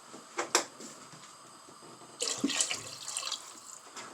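Water splashes briefly, pauses, then pours into a pot of cooking chicken and rice in a steady stream for a couple of seconds, close by.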